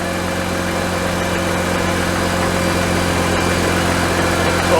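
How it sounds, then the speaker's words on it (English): A Mazda RX8 rotary engine idles after an oil cooler line replacement, giving a steady, loud mechanical hum with a smooth even drone and no revving across the whole stretch. "It's got a sweet engine, this RX8."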